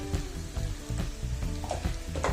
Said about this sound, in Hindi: इनको अच्छे से मिक्स करेंगे और 3 से 4 मिनट इसको पकाएंगे